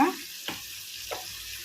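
Coated KFC-style chicken pieces frying in hot oil at home: a constant soft sizzle with a couple of brief stirring or turning scrapes, close and moderately quiet, no talking.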